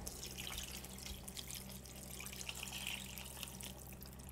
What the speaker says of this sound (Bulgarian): Ще ги залея с тази вода.